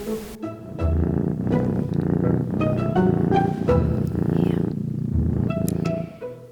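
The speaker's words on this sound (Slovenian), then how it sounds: "Živali so veselo predle" Cats purr in a steady, close, rhythmic rumble that runs continuously with slight pulsing, alone and fairly loud throughout.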